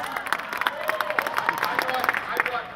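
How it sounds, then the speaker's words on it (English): Scattered clapping from an audience ripples through the room, moderately loud and uneven, with a voice talking over the applause. "Go ahead, clap."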